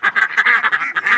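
Ducks quack in a rapid, loud, continuous run of calls close by at a fishing pier on a full-moon night, where moorhens also gather.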